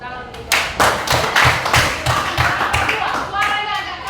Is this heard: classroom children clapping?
yes